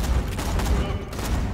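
A sniper rifle fires in the co-op shooter game Borderlands 2, sharp repeated shots over dense game noise in a short burst, with no talking.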